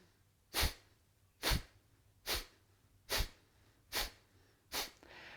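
Six forceful nasal exhalations of kapalabhati breathing, each a sharp, breathy puff through the nose at a steady, roughly one-second pace, close and alone with quiet gaps between.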